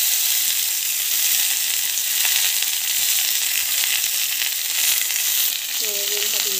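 Onions frying in hot oil in a pan, a steady dense sizzle that runs the whole time at close range, with a faint tonal squeak or clink near the end.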